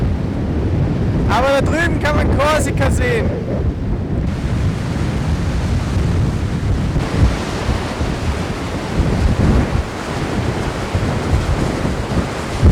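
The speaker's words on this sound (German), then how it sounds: "Der Wind ist so stark." Strong wind buffets the microphone in a constant roar on the Sardinian coast, mixed with surf noise, while a person speaks briefly early on.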